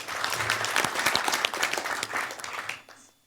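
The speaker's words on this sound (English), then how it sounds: "So a round of applause to you." Audience applause at a local council new candidates event, a sustained round of clapping from a seated crowd that fades out over the last half second.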